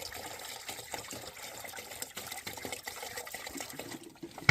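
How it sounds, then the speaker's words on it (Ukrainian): Diesel fuel mixed with petrol pours into the filler neck of a walk-behind motor tractor's gearbox during a repair, a steady continuous liquid gush and trickle heard up close for several seconds with no talking. "Беремо літр солярки, беремо грам 500 бензину, вливаємо."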